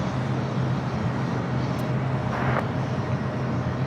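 A Delta Airlines Airbus A320 on its takeoff roll from runway 24 right at LAX, heard as a steady, loud broadband jet roar with a low engine hum holding evenly throughout, no talk.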